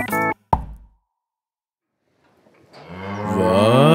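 A cow moos loudly for a couple of seconds after a silent pause, part of a spoof shampoo-for-cows advert; a short voice fragment and a thump come just before the gap.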